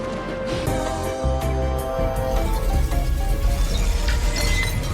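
A car strikes a woman in a scene from The Flash, with crashing impacts and shattering, clinking glass over a dense rumbling backdrop, loud and close.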